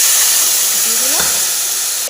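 Chili paste drops into hot oil already tempered with garlic and black cumin, giving a steady broad frying sizzle with a brief sharper hiss burst midway, close and continuous throughout.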